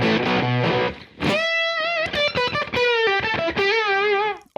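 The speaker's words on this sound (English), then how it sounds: "if I hold it down, it changes to an octave distortion" An electric guitar runs through the octave distortion setting of a drive block on an Axe-FX FM9, playing a loud, buzzy, doubled-pitch chord and then a string of sustained bending notes.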